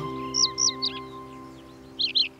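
Cartoon baby sparrows chirping, two quick bursts of bright high tweets separated by a short pause, clear and close over a faint steady tone, with no talking.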